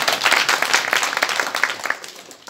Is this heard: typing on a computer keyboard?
no